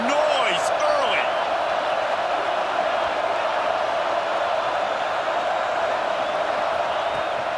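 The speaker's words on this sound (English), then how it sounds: "This crowd bringing the energy and noise early." Steady roar from a packed stadium crowd at an LSU versus Tennessee football game in Death Valley, a continuous wash of voices and cheers with a few faint whistles early on.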